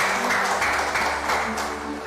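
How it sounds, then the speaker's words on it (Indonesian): A room full of people clapping together, a dense, steady wash of applause that carries on evenly and close for the whole stretch without a break. "Tepuk tangan."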